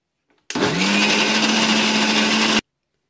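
An electric beater runs steadily for about two seconds, whipping bapuji cake batter with butterscotch into foam, a loud continuous motor whine that starts and stops abruptly with nothing else around it.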